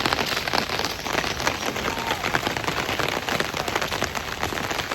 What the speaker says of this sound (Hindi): तो आज की बारिश बहुत ही झमाझम हुई दोस्तों, बहुत ही।